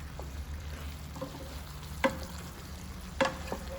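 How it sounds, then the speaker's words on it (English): Minced pork and tomato stir-fry simmering in a pan, a soft continuous sizzle with two brief scraping stirs standing out near the end. "Stir everything together and simmer for another minute to blend the flavors."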